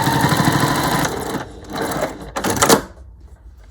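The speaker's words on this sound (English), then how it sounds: "that noise you hear is just the thread being cut" A sewing machine trimming its thread, triggered by heel-pushing the foot pedal while sewing bunting flags, gives a mechanical whirring burst followed by short clicking and clunking snaps, close and moderately loud, with no talking.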